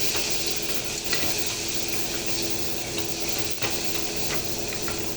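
Tomato and spice masala with biryani masala sautéing in a pan, a steady close sizzle with faint stirring scrapes and occasional small ticks, no voices.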